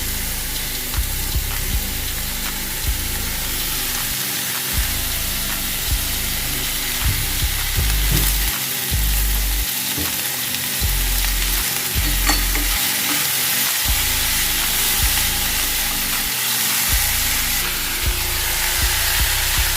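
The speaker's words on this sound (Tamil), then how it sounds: "கத்திரிக்காய் நம்ம சேர்த்ததுக்கப்புறம் ஒரு 5லேருந்து 10 நிமிஷம் கத்திரிக்காய் நல்லா வணங்கணும்" Brinjal is sautéed with onions in a pan for brinjal gravy (kothsu). A loud, continuous frying hiss runs throughout, overlaid with repeated stirring scrapes.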